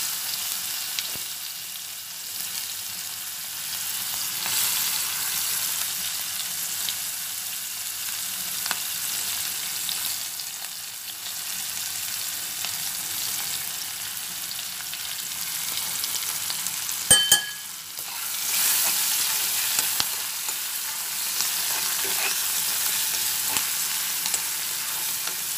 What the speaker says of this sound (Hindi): उससे पहले इस तड़के में ओनियंस जो है वो फ्राई कर लेती हूँ।